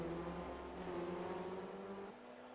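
Race cars in Forza Motorsport 4 roar together at a NASCAR-style Sunset 150 start, a dense steady engine drone with layered pitches that drops slightly near the end, no talk.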